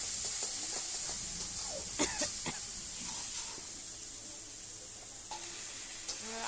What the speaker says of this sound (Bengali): দেখো বন্ধুরা, আলুর দমে মশলাটা কষানো হচ্ছে।